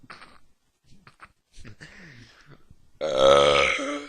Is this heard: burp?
yes